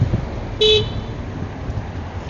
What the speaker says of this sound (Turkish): Kornaya basa basa gideceğiz demek ki.